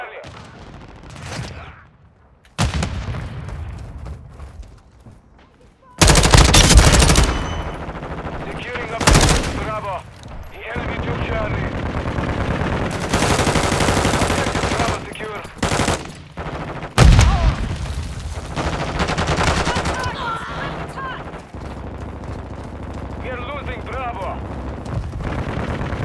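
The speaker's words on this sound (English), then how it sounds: "I'm taking fire." Bursts of machine gun fire in a military shooter video game, loud and dense, with sustained automatic volleys and explosive blasts under frequent game voice callouts.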